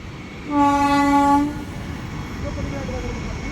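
A train horn blasts once for about a second, followed by the low rumble of rolling rail cars continuing nearby.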